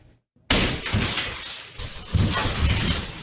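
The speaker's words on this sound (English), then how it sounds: "Window after window smashed." Glass windows smashed during burglaries, a sudden loud crash after a brief silence followed by several seconds of dense shattering and clattering glass, with repeated hard impacts close by.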